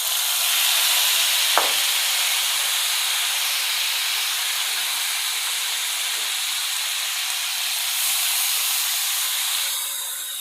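Chicken pieces for Afghani chicken dropped into hot oil, a steady loud broad sizzle that continues evenly throughout with a brief tap early on.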